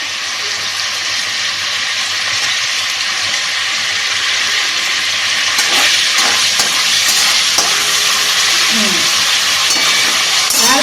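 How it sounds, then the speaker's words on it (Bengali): Cumin seeds crackle in hot oil while tempering for a Bengali mutton curry, a loud, dense hiss that swells midway with a few scrapes and knocks, with no talking. "আচ্ছা, এইবার একটু জিরে ফোড়ন দেবো।"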